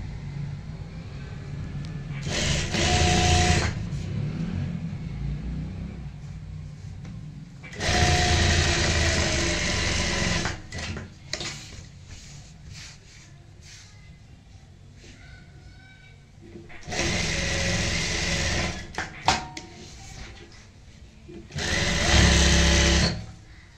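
A sewing machine stitches a pintuck neck design, running in loud, steady whirring bursts several seconds long, separated by quieter gaps where someone speaks Hindi.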